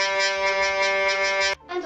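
Hurdy-gurdy rhythm strings sounding a steady buzzing drone for about a second and a half, loud and close, then a brief cut and restart.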